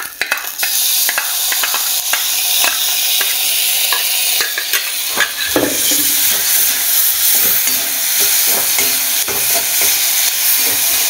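Chicken rice frying on a low flame as a constant bright sizzle, with repeated scraping and clinking stirring strokes of a spatula in the pan and no voices.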